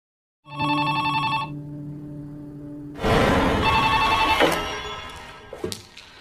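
A telephone bell rings once in a short metallic burst, followed after a pause by loud rustling and clattering noises.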